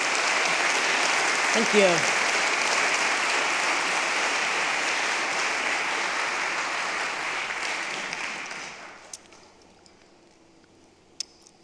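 Audience applause at a Christmas concert, a loud continuous roar of many clapping hands that fades out after about nine seconds into near silence, with a brief spoken thanks and an isolated click or two afterward.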